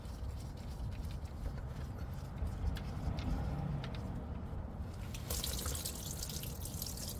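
Automatic transmission fluid from a 2004 Acura TL drains into an oil pan beneath the car, a soft continuous trickle with scattered drips over low rumbling background noise, fairly faint and without talk.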